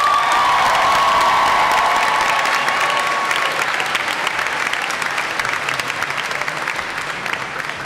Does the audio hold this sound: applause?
yes